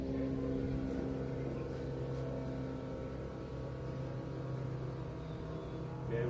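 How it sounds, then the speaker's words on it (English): A car's fuel pump runs in a steady, even electric drone with a constant tonal hum, unchanging throughout and with no voices over it. "Let's just run the fuel pump and see where the pressure goes."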